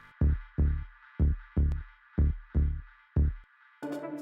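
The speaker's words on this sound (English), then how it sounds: "I did the bass line on the MS1, sounds a bit like this" A bass line played on an MS1 synthesizer for a progressive house track, with eight heavy, punchy low notes in a steady pulse, loud and alone, ending in a brighter chordal burst.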